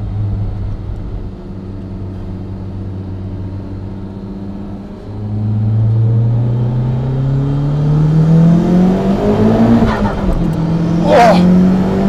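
An Audi TT BIMOTO, a twin-engine car of 1002 horsepower, accelerates hard onto the Autobahn, its engine climbing from a low drone into a loud rising roar through successive gears, with a voice talking over it.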